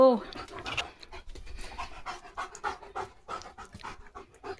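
A dog pants in quick, rhythmic huffs close by, the short breaths repeating steadily for a few seconds.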